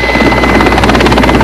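Loud helicopter carrying aid toward the earthquake-struck town of Chincha, Peru, its rotor chopping in a fast, even pulse over a heavy turbine whine, close and overpowering.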